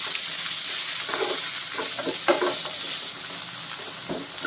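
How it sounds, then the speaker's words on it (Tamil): Chopped onion with garlic sautéing in a pan for masala idli, a close sizzle with repeated spoon stirring scrapes and clinks throughout. "வெங்காயம் நல்லா வதங்கணும்"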